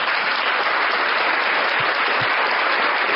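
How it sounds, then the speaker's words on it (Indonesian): Steady applause from a crowd at a church gathering, dense continuous clapping at an even level throughout, with no voices over it. "Tepuk tangan untuk Tuhan."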